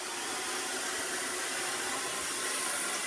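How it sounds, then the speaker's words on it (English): A steady, whooshing blow dryer runs continuously at close range, drying a man's hair during a haircut, a dense airy roar with no pauses or voices. "I'm going to just take my blow dryer and I'm just going to dry his hair a little bit"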